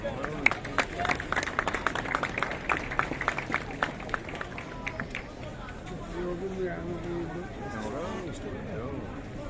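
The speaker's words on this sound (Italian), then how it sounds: "un applauso a Sandalizza" A crowd applauds during the morning of the Sant'Agata festival in Catania, with dense clapping at first that thins out and fades beneath people talking and general crowd murmur.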